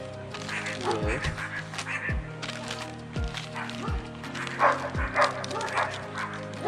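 Dogs bark repeatedly indoors during fishing tackle prep, loud close yaps and yips recurring roughly once a second, some high and squeaky like whimpers, continuing throughout without speech.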